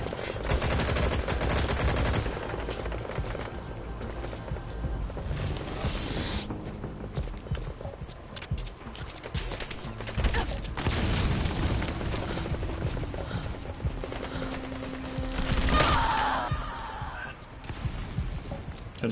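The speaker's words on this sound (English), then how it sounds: "Couldn't find where the guy was shooting from." Gunfire in the online shooter Metal Gear Online, a long stretch of dense crackling shots and bursts with louder swells, some near and some more distant.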